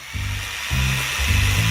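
A hand saw cuts through wooden boards in three rhythmic bursts of rasping strokes over a steady background hiss. The sound is close and even, with no talking.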